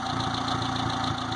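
A Geo Tracker 1.6-litre engine running steadily at close range, a continuous low mechanical drone with slight throttle fluctuation and no voices.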